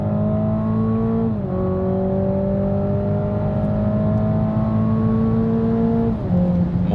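A Toyota GR Supra in sports mode accelerates hard, its engine note climbing steadily through a gear, dipping at each shift and then rising again, loud and close.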